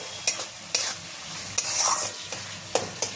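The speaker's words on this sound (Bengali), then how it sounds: "পনিরটা দিয়ে খুব ভালো করে নাড়াচাড়া করে" Paneer stuffing fries in a pan while being stirred, with a spoon scraping and clacking in sharp strokes about every half second over a soft, continuous sizzle.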